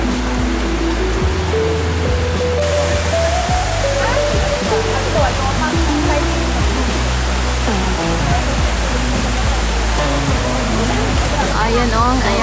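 River flowing below Fox Glacier in New Zealand, a constant loud rush of water with people talking over it.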